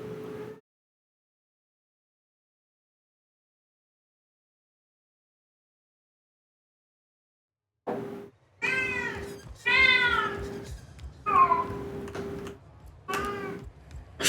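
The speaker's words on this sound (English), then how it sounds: "She truly is the loudest cat." A cat in The Outer Worlds lets out a loud run of repeated meows after a long silence, one brief cry at the start and then five or six close, insistent calls back to back.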